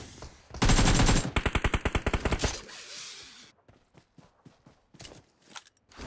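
Rapid automatic gunfire bursts from PUBG Mobile, a loud fast volley followed by a second rhythmic burst, then sparser, quieter single shots and clicks trailing off.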